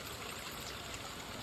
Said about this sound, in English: I'm gonna open the valve. You can hear it dumping.